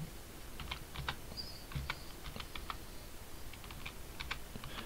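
Faint, close keystrokes on a computer keyboard, irregular clusters of light taps entering a motor code for a drone ESC setup, with no speech over them.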